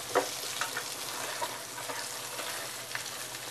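Ghol fish sizzles steadily in a nonstick pan after being flipped, a continuous close frying hiss with a few faint clicks of the spatula.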